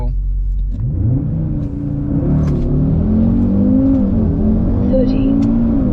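A REVO Stage 2 tuned Audi RS3 8V2 pulls hard at full throttle, its engine note climbing steadily from a sudden launch and rising in pitch through the run, loud and close from inside the cabin.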